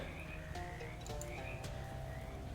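A chorus of frogs in the video game Shadows Over Loathing croaks continuously and overlapping, a dense, steady burble of many voices at close range with no pauses.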